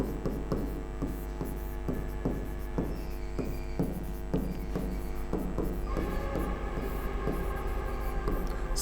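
Chalk tapping and scraping on a board during a Hindi lesson, a run of short rhythmic strokes roughly every half second, moderately close over a steady electrical mains hum, with no talking.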